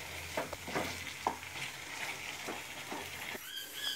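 Green chickpea halwa being stirred and cooked in a pan over a high flame, with soft sizzling and the faint scrape and clink of the spoon at an irregular, steady pace.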